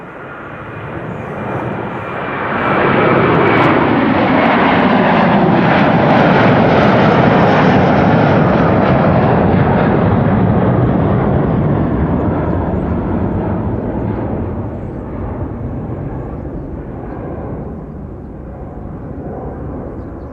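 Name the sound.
Delta Airbus A330-300 jet at Amsterdam Schiphol Airport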